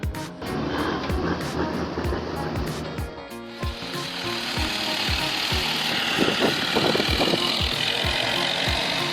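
A T40 tractor hauling a full log trailer up a slippery, muddy slope makes its engine growl and labour, heard as a loud, continuous rough drone with regular knocking thuds that grows denser and louder partway through.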